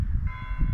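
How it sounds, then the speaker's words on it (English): Bells of a local church ring out in a brief, resonant burst with a sustained hum, heard outdoors below a castle after a climb. "The bells of the local church down there."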